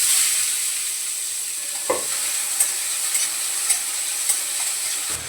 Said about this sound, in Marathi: पहिलं थोडंसं परतून घेते कांदा